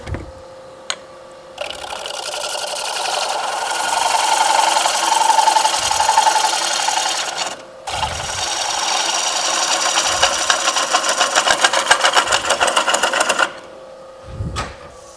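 A woodturning gouge cuts wood on a lathe, a steady rough scraping drone that runs continuously with a brief pause midway, then a ticking, chattering stretch before it stops.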